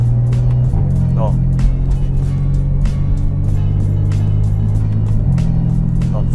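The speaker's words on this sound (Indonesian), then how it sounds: "itu kedengeran shiftingnya dari gigi 1 terus ke gigi 2, suara teng" Modified BMW M4 with its exhaust valve open, rolling slowly through an upshift from first to second gear. A loud, close engine drone steps in pitch at each shift, with someone speaking over it.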